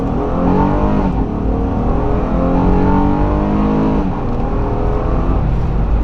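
Engine of a 2019-2020 Honda Pilot EX SUV pulling hard under acceleration, a loud, steady rising drone with gear-shift dips, heard close from inside the cabin with no talking.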